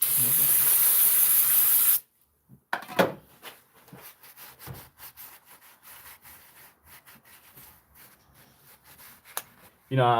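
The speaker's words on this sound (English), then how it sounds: "taking a rag, some brake cleaner, going around that housing" Brake cleaner hisses in a loud, close spray burst onto a Dodge Durango water pump housing, then gives way to rubbing and scraping with a rag and scattered handling clatter.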